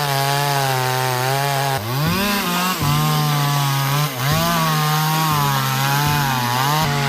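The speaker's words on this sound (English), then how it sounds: "With a powerful chainsaw and a specialized truck, he easily handles heavy tree trunks" A powerful chainsaw cuts through heavy tree trunks on a steep slope, its engine snarling loud and close in a steady high-pitched whine that dips briefly in pitch a few times as the chain bites into wood.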